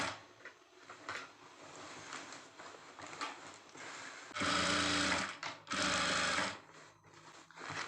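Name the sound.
sewing machine stitching a lehenga belt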